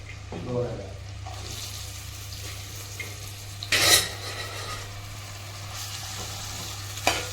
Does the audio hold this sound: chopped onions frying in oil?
yes